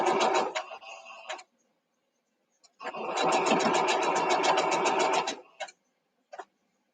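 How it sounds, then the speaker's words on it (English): A sewing machine stitching a quarter-inch seam runs in a short burst, stops, then hums through a longer steady run of rapid needle strokes before a few brief final taps, close and clear. "So I'm gonna go ahead and sew 1/4 inch down, all the way down"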